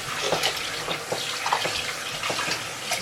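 Tap water runs steadily, splashing and gushing as raw chicken is rinsed under the stream.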